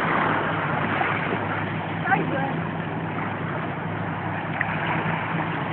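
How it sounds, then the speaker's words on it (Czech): A military ship passing on the water, its engine making a steady low hum and drone with faint tonal lines, heard continuously from a distance beneath wind and a few brief knocks. "Jo, to je vojenská loď."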